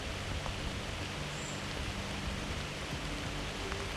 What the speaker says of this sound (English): There's always something serene about the sounds of the rain.